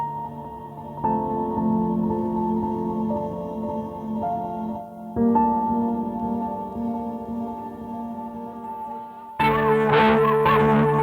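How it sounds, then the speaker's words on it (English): Sustained guitar tones through a multi-effects pedal ring with reverb, echoing delay repeats and wash, shifting chords, then a brighter, bit-crushed, distorted warbling texture kicks in near the end. "It is a reverb, it is a delay, it is a bit crusher, a distortion"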